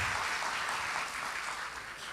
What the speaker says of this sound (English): Let us all give a round of applause to everybody who are passionate and adamant to be here today